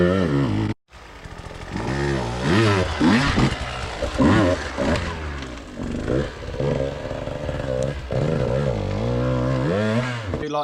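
A 2020 KTM 150EXC TPI fuel-injected two-stroke motorcycle is ridden with its engine rising and falling in loud, rasping revs as it accelerates and shifts, with one brief cut near the start.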